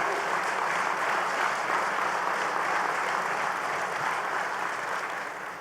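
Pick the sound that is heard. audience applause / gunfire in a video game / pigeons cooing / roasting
audience applause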